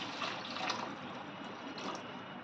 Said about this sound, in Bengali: এবার দিয়ে দিচ্ছি পরিমাণ মতো গরম জল।